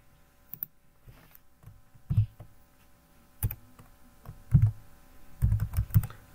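Password being typed on a computer keyboard while setting up a MikroTik hotspot: a few scattered key presses and clicks in short, irregular bursts, fairly close and moderately loud, with no talking.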